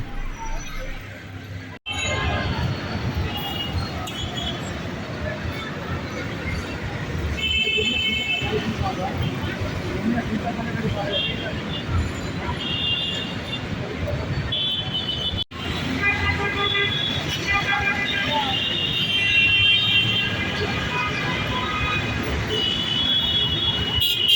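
A metro train rumbles past near Bijoy Sarani station in Dhaka, with a sustained roll, intermittent wheel squeal and short horn toots over steady street traffic.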